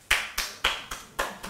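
A lone audience member claps at a question-and-answer session, five sharp, evenly spaced claps close by with nothing else around them.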